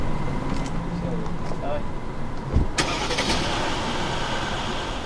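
A car engine cranks and catches partway through, rising into a rough mid-pitched running noise under constant background rumble while a person talks over it.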